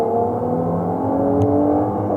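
A Mercedes-AMG C43 accelerates hard from a standstill on a hot day with traction control off, its engine holding a steady, loud rising drone from inside the cabin.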